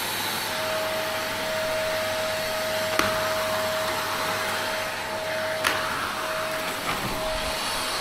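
Steady, loud drone of a vacuum cleaner running continuously while cleaning out a grain dryer, with a constant whine and a few faint clicks and knocks.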